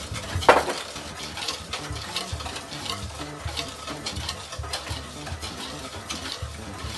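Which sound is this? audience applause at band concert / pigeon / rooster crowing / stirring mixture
stirring mixture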